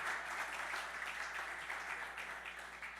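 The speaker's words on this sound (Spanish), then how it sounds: "¿Por qué no le damos un fuerte aplauso al Señor por su amor," Church congregation giving a strong round of applause, a dense, steady wash of many hands clapping at moderate distance, easing slightly toward the end.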